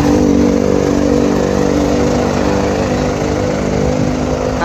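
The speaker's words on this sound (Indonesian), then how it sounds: "Nah, ini Hino RK suaranya begini." Hino RK bus diesel engine idling loudly and steadily up close, a dense rumbling drone with a constant throb and no talk.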